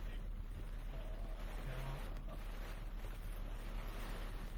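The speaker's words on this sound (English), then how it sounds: "wind and rain just picked up a lot here in North Clymer" Strong wind roars steadily with a broad, constant rush and buffeting against the microphone during a severe spring storm in North Clymer, New York, loud and continuous with no distinct gaps.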